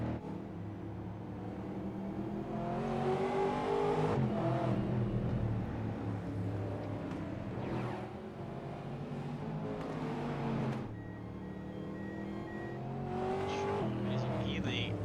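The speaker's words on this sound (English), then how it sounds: "Another car coming in the pits now." Stock Car Brasil race cars at Oran Park in the iRacing game, with engines revving and passing as a car comes into the pits, under continuous commentary talk.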